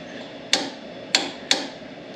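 A torque wrench gives three sharp, close metallic clicks while tightening a suspension bolt, spaced roughly half a second apart against a quiet background.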